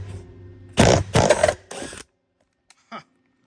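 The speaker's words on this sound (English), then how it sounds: "take my impact and run them out real quick" An impact wrench runs out welded studs on a Foxbody subframe connector install: two loud, close bursts of rattling hammering, a shorter third burst, then near silence with a couple of small clicks.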